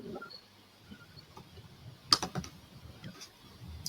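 Soft keyboard typing in a quiet room during an online education meeting, a few scattered keystroke clicks with one sharper burst of taps midway, faint and close, with no talking.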